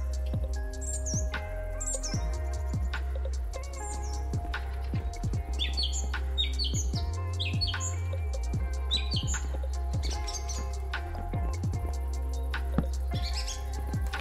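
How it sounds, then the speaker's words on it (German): Birds in the Minecraft video game chirp and tweet in short, scattered bursts over a low steady ambient drone, with no talking. "Die Vögel, echt schön, die sich anhören."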